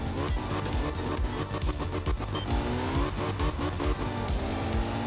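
A rear-engine Porsche rally car from the late-1960s Group 2 class launches in Art of Rally, its engine revving hard and loud with tire scrabble and squeal as it pulls away on a rally stage.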